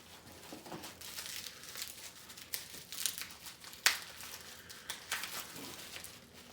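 Plastic packaging crinkles and rustles up close during an unboxing of beard care products, with scattered crackles and one sharper snap partway through.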